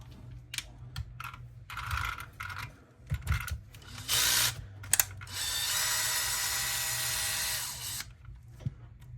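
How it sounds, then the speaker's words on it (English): Small screws being worked out of an Arrma Grom RC car, giving short ratcheting and mechanical clicking bursts up close, followed by a long steady buzzing spell and scattered light taps, with no talking. "the first screw you'll need to take out is this screw here"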